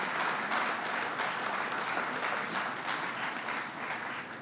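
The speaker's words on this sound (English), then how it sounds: "let's give them all a round of applause for what they put up with" An audience claps steadily at the opening of a new subway station at 96th Street, a moderately distant, even wash of applause with no voices over it.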